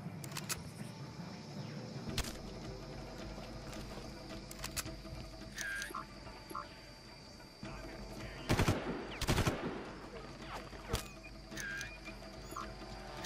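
Enemy gunfire in the PC game Far Cry 1: sharp bursts of shots crack out intermittently over a busy in-game background, with a cluster of louder, closer shots in the middle and no talk.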